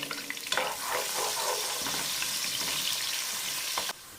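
Onions hit hot oil in a pot while making chicken yakhni pulao, giving a loud, dense, hissing sizzle that holds steady, then drops off abruptly near the end.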